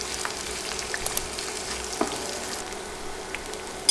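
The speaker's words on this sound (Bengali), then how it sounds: "পেঁয়াজও কিছুক্ষণ তেলে ভেজে" Chopped onions, half a cup, frying in oil over a medium flame while chickpeas are cooked: a steady soft sizzle with light crackles and occasional stirring clicks, close and fairly quiet, with no talking.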